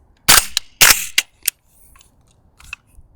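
Two loud, sharp gunshots from a .300 Blackout rifle fired through a Velos suppressor with Magtech 200-grain ammunition, followed by a few lighter clicks and taps in an otherwise quiet outdoor setting.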